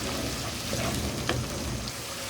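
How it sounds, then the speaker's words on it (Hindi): Finely chopped onion fries in a pan, a soft, even crackle and light sizzle with scattered small pops, close and fairly quiet, no voices. "अब हम इसमें प्याज डालेंगे।"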